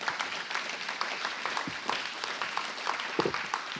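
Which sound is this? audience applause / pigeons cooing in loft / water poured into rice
audience applause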